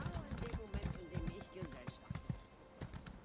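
Horse hooves clip-clop in a steady rhythm while riding in The Elder Scrolls Online, mixed with game sounds and someone talking over them throughout.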